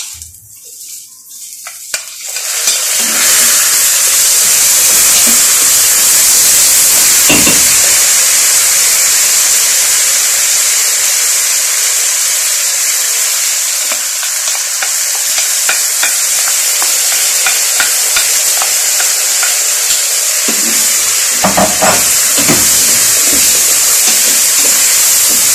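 Washed, unsoaked rice fries loudly with vermicelli in a hot pan, a strong continuous sizzle that bursts in after a quiet start, with scraping stir strokes throughout, close up.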